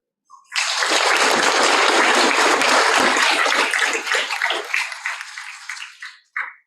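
A roomful of people applaud the volunteer elected school board directors at a district board meeting: loud, close clapping that bursts in, holds steady for several seconds, then thins out and stops, with a short final burst at the end.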